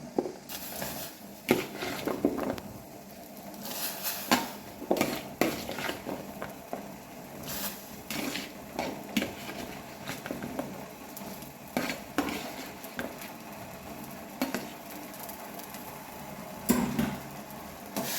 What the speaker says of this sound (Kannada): ಈಗ ಇದು ನಾವು ಕಟ್ ಮಾಡಿ ಇಟ್ಟುಕೊಂಡ ಹೋಳುಗಳನ್ನು ಅದಕ್ಕೆ ಉಪ್ಪು ನೀರಿಗೆ ಹಾಕಿಕೊಳ್ಳುವ.